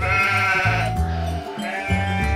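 Sheep give a few drawn-out bleats, roughly three, heard over continuous background music with no talking.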